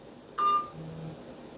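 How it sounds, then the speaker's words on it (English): Telephone sound in a room with a motherboard test bench: a single short bright beep tone followed by a faint lower hum, heard alone without talk. "There's that phone again."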